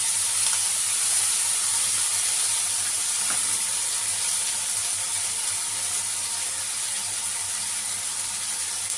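Spice paste and softened tomatoes sizzle steadily in a pan for an egg curry, a continuous close hiss and crackle with no talking.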